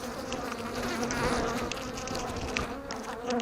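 Agitated honeybee swarm buzzing loudly and continuously during a swarm removal, a dense close drone with individual bees zipping past the microphone.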